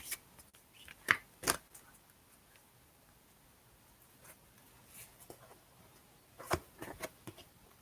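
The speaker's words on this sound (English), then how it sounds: "I keep shuffling till I'm told to stop." Quiet, soft rustling and a few sharp flicks of tarot cards being shuffled, spaced out over a faint background hush.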